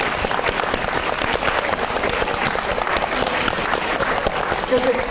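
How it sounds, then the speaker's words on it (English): An audience claps loudly and steadily in a hall at a Chinese education conference, honouring Chinese teachers with a sustained round of applause that carries crowd murmur throughout. "stand up and let's give them a huge round of applause"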